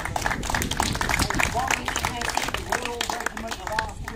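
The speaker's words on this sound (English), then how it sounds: "Give them a big round of applause." A crowd at Elizabeth Castle in Jersey claps for volunteers who fired a cannon, a scattered round of applause with voices talking over it.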